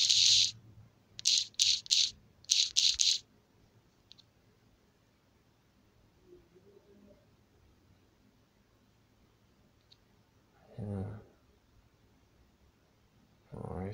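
Fingers tap on a computer keyboard in a few short, sharp bursts of clicks near the start, followed by near silence and brief voices later.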